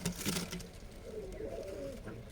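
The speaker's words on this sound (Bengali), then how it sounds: "এটা মাদি কবুতর" Breeding pigeons, a female among them, coo softly in a loft, a few low rolling coos close by with no talking.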